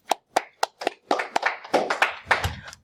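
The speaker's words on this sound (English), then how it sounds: "give yourself a hand clap because we've almost come to the end" Single hands clapping in a steady rhythm, about a dozen sharp, close claps that quicken and blur together toward the end, during a calculus lesson.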